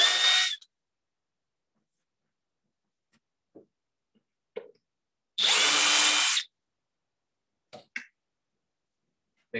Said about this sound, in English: I've got some tapered head screws. to match our brackets. And I'm going to do some pre-drilling.